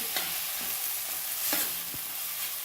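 A spoon stirs a tomato and green chili mixture in a pan over a steady, fairly quiet sizzle, with a few distinct scraping knocks against the pan.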